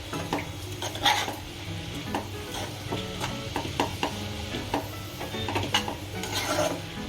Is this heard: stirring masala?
yes